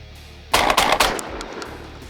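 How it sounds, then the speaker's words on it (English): A Stoeger M3500 semi-automatic shotgun fires three rapid shots in quick succession, each a sharp, loud blast close by, followed by a decaying echo and rattle. "we're gonna try putting 3 shots as fast as my finger can pull"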